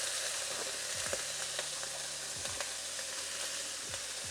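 Bacon sizzling in hot oil in a pan, a steady close crackle and hiss with light stirring scrapes, no voices.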